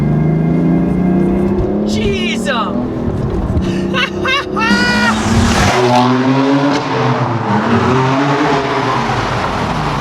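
A BMW M4 switched into its M sport mode revs hard up close, the engine note climbing and sweeping in pitch over steady road rumble, while someone speaks over it briefly.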